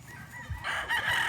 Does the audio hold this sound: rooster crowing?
yes